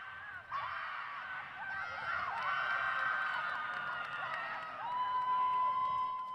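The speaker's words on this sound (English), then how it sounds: "It really sounds a little more like it's a raucous bench, as we have on our field microphone" Distant shouts and cheers from a team bench at a women's college soccer match, faint whistle-like calls and scattered voices carried through a field microphone under steady ambient noise.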